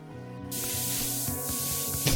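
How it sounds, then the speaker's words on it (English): Bug spray from an aerosol can in the Bluey video game hisses in one steady, continuous burst that starts abruptly and runs to the end over a soft game music bed. "Quick, the bug spray."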